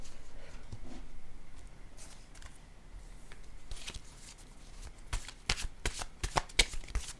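Playing cards are shuffled during a card reading, first as a soft steady riffle, then as a series of sharper, louder snaps and flutters toward the end, with no voices.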